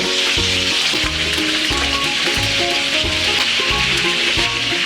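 Chicken wings fry loudly in a pan with a constant, dense sizzle and crackle, close up, joined by repeated scraping strokes of stirring and no talk.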